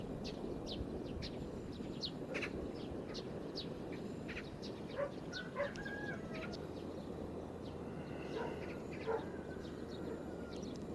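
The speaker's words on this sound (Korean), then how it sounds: "새소리도 좋고" Birds chirp and call intermittently in the distance at a farm campsite over a steady low background hiss, with a few clearer tweets now and then.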